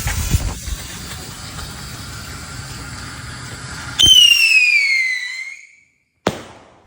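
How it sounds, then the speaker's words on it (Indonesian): Rocket firework lit outdoors: a steady hissing fuse, then a loud whooshing launch with a falling whistle as it climbs, a brief silence, and a sharp pop overhead. "Jadi ini tuh namanya kembang api roket"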